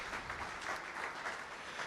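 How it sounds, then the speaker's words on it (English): An audience at a SCORE event applauds steadily, a dense wash of clapping that holds at an even level from start to finish with no voices on top. "How about a clap of hands for that?"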